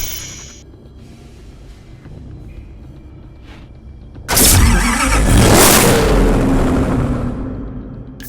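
The CCX Competition Coupe 10th Anniversary Edition supercar in Need for Speed Hot Pursuit Remastered sits quietly, then its engine fires up abruptly into a loud, sustained roaring rev that slowly eases off.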